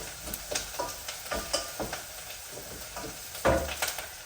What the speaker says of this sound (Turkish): Şimdi soğanlarımı güzelce kavuruyorum.